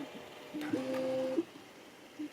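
A Prusa Mini 3D printer's stepper motors whir and beep in short tonal runs during bed leveling, one sustained two-tone hum and a few brief blips, close and fairly quiet.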